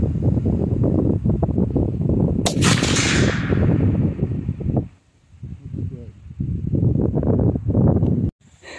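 A rifle shot fired outdoors at a target, one sharp loud crack near the start that fades away, with wind noise and rustling grass continuing throughout and a voice talking over it.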